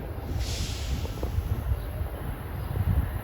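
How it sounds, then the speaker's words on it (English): An Amtrak passenger train bound from Boston to Washington accelerates away from Back Bay station, a steady low rumble and rolling rail noise heard from trackside, constant and moderately distant without distinct horn or voices. "Just started up out of the Back Bay station. He'll be accelerating through here."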